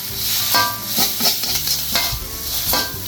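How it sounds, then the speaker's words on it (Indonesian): Boiled instant noodles stir-fried with garlic in a wok, giving a steady close sizzle with repeated scraping and stirring strokes, no talk. "Lanjut deh dioseng-oseng."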